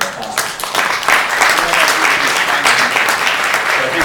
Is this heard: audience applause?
yes